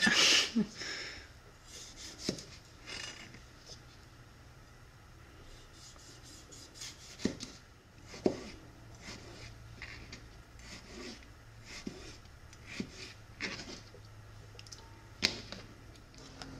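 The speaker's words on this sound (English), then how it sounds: "So I'm gonna chop up all of these and add them into this bowl over here." A knife chops plum-sized fresh garden tomatoes on a cutting board for salsa, making sparse, irregular taps and scrapes spread across the clip with quiet gaps between them.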